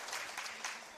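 Audience applause at the launch of the Kenya County Budget Transparency Survey 2021, a brief steady burst of many hands clapping indoors, fairly quiet and alone.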